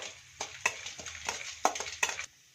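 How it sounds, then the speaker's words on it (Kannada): Sweets frying in hot ghee for Nagara Panchami laddus and avalakki chivda give off a steady soft sizzle, broken by several sharp stirring scrapes and clatters near at hand. "ನೋಡಿ ಈ ತರ ಫ್ರೈ ಮಾಡ್ಕೋಬೇಕು"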